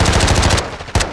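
Rapid automatic gunfire in Call of Duty: Modern Warfare II, a loud, close burst of evenly spaced shots for over half a second, a brief lull, then another sharp shot and echoing report.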